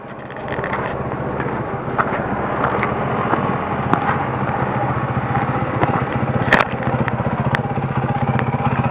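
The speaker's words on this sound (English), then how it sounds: "here comes a motorcycle" A motorcycle engine drones steadily nearby, a continuous low rumble with light clatter, holding roughly constant loudness throughout.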